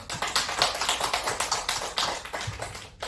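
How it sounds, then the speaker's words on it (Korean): A church congregation claps together in a steady run of close, dense hand claps lasting a few seconds, with no voices over it. "박수."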